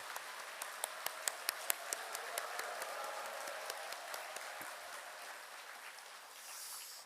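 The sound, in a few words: audience applause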